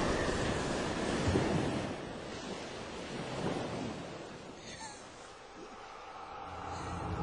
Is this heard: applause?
no